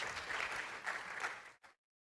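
A church congregation applauds together, a dense, fairly faint wash of clapping that rises and falls, then cuts off abruptly.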